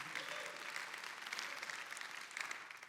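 An audience claps steadily in a dense, fairly faint and even wash of applause, with no talking over it.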